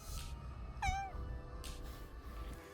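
A cat named Daisy gives one short, rising-and-falling meow nearby in a quiet setting, with faint rustling before and after it.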